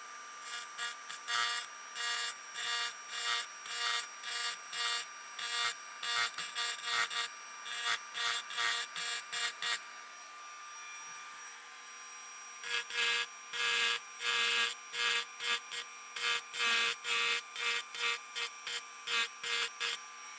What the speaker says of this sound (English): I'm aiming for a rough cross pattern of grooves to ensure a grip in every direction.